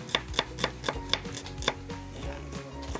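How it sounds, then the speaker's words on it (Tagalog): Knife chopping onion on a wooden board for cassava okoy, a run of six or seven crisp, evenly spaced cuts that then give way to softer rubbing, heard close and clear over faint background noise. "ginagayat naman natin ngayon ang sibuyas na isasahog sa ating okoy"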